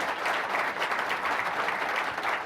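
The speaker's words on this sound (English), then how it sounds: "A big round of applause for the managing general partner, Mr. Bill Neukom." A live studio audience breaks into a steady, even round of applause, dense clapping held at a constant level throughout with no talking over it.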